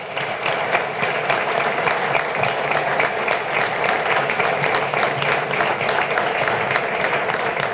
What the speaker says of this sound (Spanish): Un aplauso para Cuba por eso.